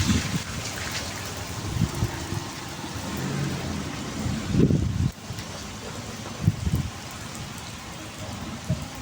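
Steady light rain patters across the whole stretch, with low rumbling bursts rising and fading now and then beneath it.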